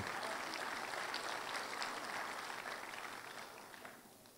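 Scattered, hesitant clapping from a church congregation during a sermon, a dense patter of hands that holds steady and then thins and fades toward the end, with no voices over it.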